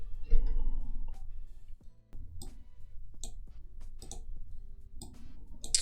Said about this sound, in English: to get the layer style, I always have to double click here.